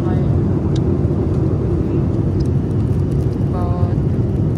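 A steady, loud roar fills an airliner cabin during a flight from Kazakhstan to America, an unbroken engine and air drone with a voice speaking briefly near the end.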